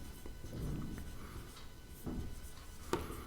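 Pen scratching out a math answer on paper during a tenth-grade lesson, soft irregular scribbling strokes heard close in a quiet room.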